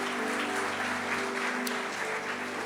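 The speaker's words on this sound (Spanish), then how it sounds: "Denle un aplauso al Señor" A church congregation applauds in a steady, dense wash of clapping that continues throughout, with a low sustained musical tone underneath.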